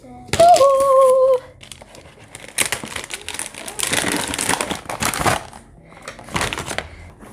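Christmas present boxes are unboxed up close, with packaging crinkling and crushing in busy bursts among tearing and rustling. A short voice rises near the start.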